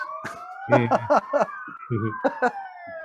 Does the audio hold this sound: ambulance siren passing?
yes